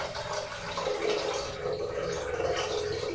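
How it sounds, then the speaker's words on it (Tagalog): Water pours steadily over a grindal worm culture, a continuous close splashing wash with no talk. "Bubuhusan lang natin ng tubig to."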